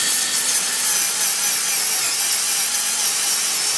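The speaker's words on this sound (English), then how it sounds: "you're going to go ahead and just drill that hole out." A drill bit bores out a bolt hole before a Heli-Coil thread insert goes in, giving a steady, loud, close grinding whir that runs without a break and has no talk over it.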